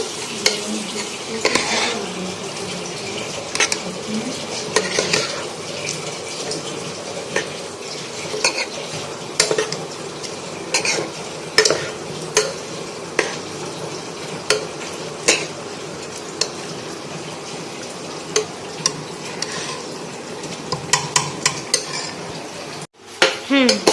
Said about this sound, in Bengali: এটাকে ভালো করে এবার নাড়িয়ে ছাড়িয়ে দিতে হবে ওপর নিচ করে।